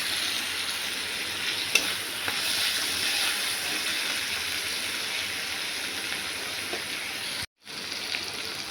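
Chopped tomato and ginger fry in a pan with a steady, dense sizzle that carries on alone, close and fairly loud, broken only by one brief cut-out near the end.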